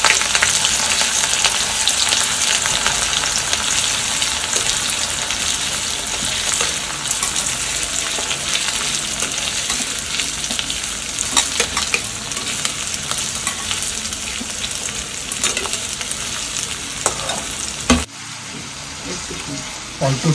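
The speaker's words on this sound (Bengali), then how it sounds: "গরম মশলা দেওয়ার পর পেঁয়াজ দিয়ে দিচ্ছি আমরা।" Sliced onions fry in a pan with garam masala, sizzling loudly and steadily with scraping stirs throughout, before the sizzle drops to a softer hiss near the end.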